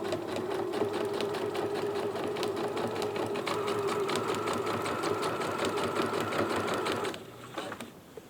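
Sewing machine stitching ribbon down the side of a quilt-as-you-go quilt, a steady close motor whir with rapid needle rhythm running continuously for about seven seconds before stopping.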